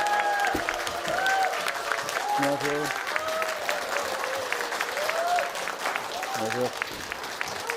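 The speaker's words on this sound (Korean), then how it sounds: "박수로 환영하시겠습니다" Audience applause at a Daegu film screening's audience talk, a steady broadband patter filling the whole clip as a guest comes on, with people speaking greetings over it and some voice tones in the foreground.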